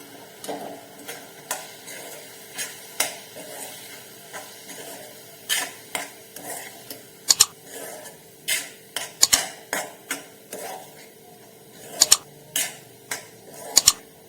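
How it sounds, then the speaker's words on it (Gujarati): Crushed leftover roti being stirred in a kadai over a low gas flame, with a spoon scraping and tapping in a steady series of soft clicks, some sharper knocks, and a faint sizzle underneath. "રોટલીને આ રીતે આપણે બે મિનિટ માટે સ્લો ગેસની ફ્લેમ પર હલાવશું"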